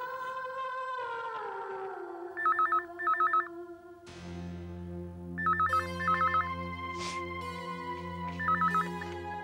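A telephone rings in short trilling bursts, two pairs then a later pair and a single burst, heard clearly over sustained music.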